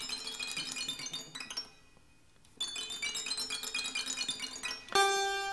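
Santur strings struck on the short segments beyond the pegs, giving bright, glassy, metallic pings in irregular clusters, with a brief lull midway and a ringing, shimmering run at the end.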